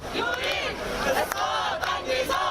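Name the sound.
protesters shouting slogans outside a court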